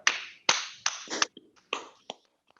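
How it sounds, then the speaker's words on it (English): A small audience at a corporate annual meeting gives scattered applause: a handful of sharp, separate claps close by, bunched at first and then thinning out to a few faint taps, with no talking. "Let's give applause for everyone."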